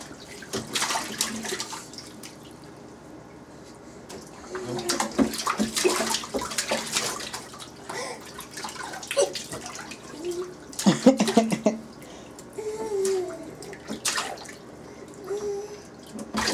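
Water splashes and sloshes in a bathtub during a child's bath, with irregular bursts of splashing and dripping, close by and moderately loud.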